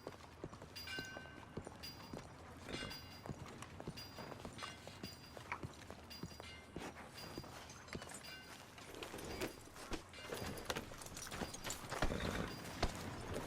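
Horse hooves clip-clopping steadily in Red Dead Redemption 2, a continuous rhythmic patter of hoofbeats on the ground at a brisk pace, close and clear with no talking.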